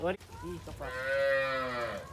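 A cow moos in a long, loud, drawn-out call close by in a cattle shed, after a few shorter bovine grunts at the start.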